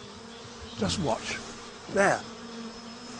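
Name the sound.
bee colony shimmering wave defence display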